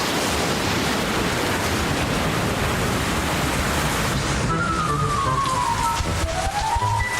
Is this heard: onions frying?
no